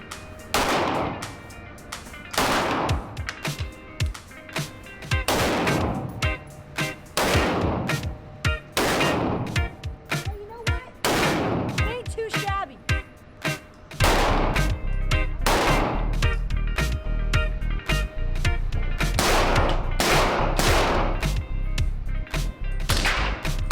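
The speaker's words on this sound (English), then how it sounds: "So we ended up doing some shooting with kind of all the guns that we had there." Gunfire on a shooting range from guns including a PDP F-Series and a Honey Badger SD, with sharp loud single shots and rapid strings of cracks repeating throughout, close and echoing.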